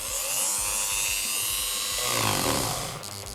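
A Procraft PG400 engraver grinding at speed one gives a steady, high-pitched whirring drone that shifts in tone partway through as it works, close and continuous for a few seconds.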